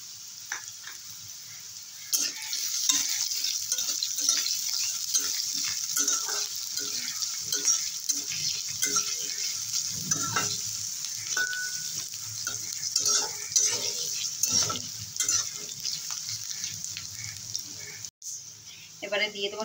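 Potatoes fry in a pan with a steady, bright sizzling hiss and occasional spatula scrapes, while a voice talks quietly underneath.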